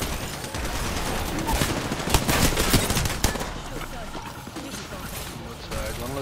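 Dense, continuous bursts of automatic gunfire in a shooter video game, loud and close, rattling almost without pause, with a player's voice under the shooting.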